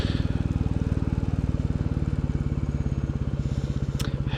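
A Royal Enfield Bullet 350 motorcycle cruising at speed, its single-cylinder engine thumping in a steady, loud, even pulse throughout, with wind rush on top and a short sharp click near the end.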